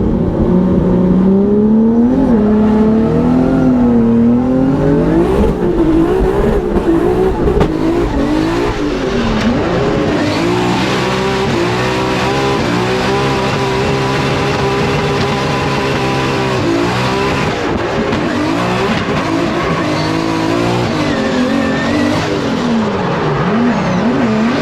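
A freshly built BMW E36 drift car on its first Formula Drift lap in Seattle, its engine loud and close as it revs hard, rising and falling in pitch with steady aggressive throttle and faint tire squeal.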